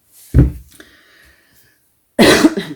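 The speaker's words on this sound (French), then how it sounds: "pardon, je tousse encore, toujours" A single hard cough up close, followed after a quiet pause by a second rougher cough with throat rasp.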